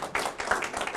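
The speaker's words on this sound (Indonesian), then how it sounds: "Aplaus dulu dong untuk Tiansi." An audience at a Tiens health seminar claps in a short, loud burst of applause lasting about a second.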